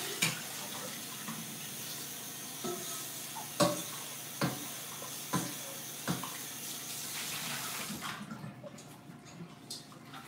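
Running tap water pours steadily into a cooking pot as it is washed out, with several sharp knocks and clanks of the pot against the sink, and the water shuts off near the end.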